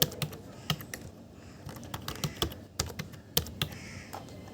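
Someone types a password on a computer keyboard, an irregular run of crisp, close keystrokes with brief pauses between clusters of taps.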